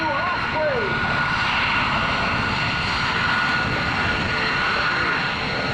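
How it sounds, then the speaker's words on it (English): A steady, loud engine roar from a Marine Corps V-22 Osprey tiltrotor aircraft fills the whole stretch, with a constant droning hum and a faint voice briefly underneath near the start. "It is the Marine Corps V-22 Osprey."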